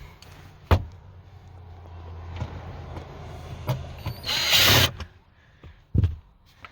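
A power drill works on the screws of a vehicle's third brake light, giving short bursts of whirring and clicking with knocks and handling noises in between, close by and with no talk.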